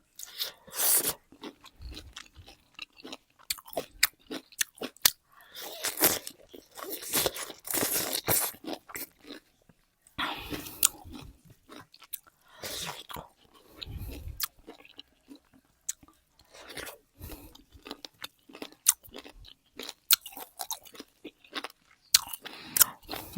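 Meat being chewed close to the mic, with irregular moist crunches and bites in uneven bursts separated by brief pauses, and no talking.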